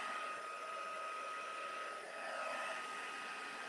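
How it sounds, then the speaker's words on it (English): A craft heat tool blows hot air onto cardstock in a steady, constant whirring rush with a thin high whine, close and unchanging, with no one speaking. "You see, I'm moving the cardstock. I'm not moving the heat tool."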